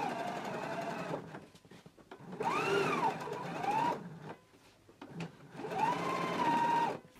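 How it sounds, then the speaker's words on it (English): Domestic sewing machine top stitching a pants fly, running in three bursts of steady whirring stitches separated by brief pauses, close and fairly quiet. "I'm going to go ahead and top stitch following my stitching line."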